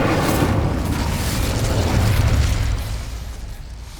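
In a Harry Potter video game, an Incendio fire spell goes off as a loud, roaring blast that holds strong for a few seconds before slowly fading out, with no voices.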